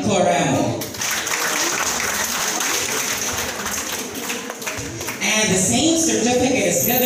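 A crowd at a BCC team-building day applauds its facilitators, a dense, sustained wash of clapping that runs steadily and swells again toward the end.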